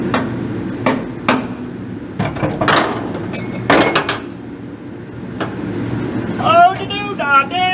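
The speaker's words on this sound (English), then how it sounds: "Clamper in place so I can give me a punch mark where I got to drill my hole." Several sharp metallic strikes of a hammer on a center punch marking metal for drilling on a 1940 Chevy Coupe ring out at uneven intervals, close by, with workshop clatter between them and a squeaky creak near the end.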